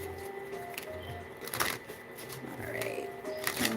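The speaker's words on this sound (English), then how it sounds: "One more shuffle." Tarot cards are shuffled close by during a live reading, a soft continuous riffling and flicking with brief louder snaps, faint overall.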